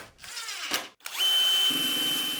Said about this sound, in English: The hole I'm drilling here is for the pivot point at the front of the table saw